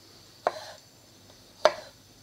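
A knife cuts a radish into small wedges on a cutting board, giving two sharp, close chops about a second apart in a quiet room.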